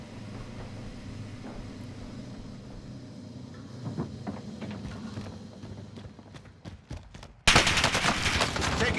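Oden rifle hip fire in Call of Duty: Warzone, with rapid gunfire crackling over game ambience and ending in a sudden loud, dense burst of shots.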